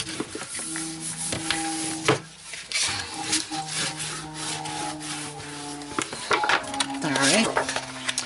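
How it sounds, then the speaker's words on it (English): Paper for a mini album in a fancy box being rubbed down by hand, a scratchy scraping with irregular strokes and a few sharp knocks, with brief tonal hums and a voice speaking now and then. "Turn this over and give this a rub down."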